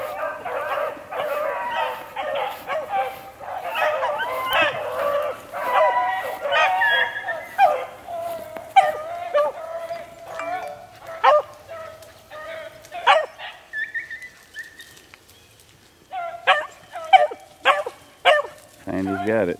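Young hunting dogs bark, bay and yip out in the field, some close and some farther off, in irregular bursts over a quiet background while people talk intermittently.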